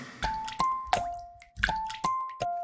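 Cartoonish rain drip effects for a children's spring song: six bright, pitched plinks fall one after another at an uneven pace, each with a short ringing tail.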